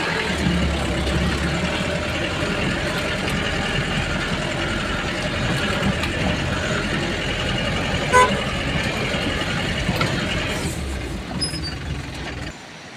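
A vehicle climbs out of a river, its engine droning steadily and loudly over splashing water, with brief horn toots.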